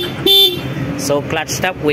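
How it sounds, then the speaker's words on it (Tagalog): A Yamaha Sniper 155R ABS 2025 motorcycle horn gives one short, sharp beep, heard close while someone talks over it. "pakinggan natin ang kanyang horn"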